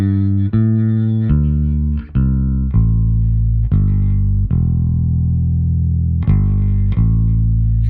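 Electric guitar run through a compressor with the release set very high, playing a series of loud plucked notes and chords that ring out with long, even sustain between attacks, without any talking.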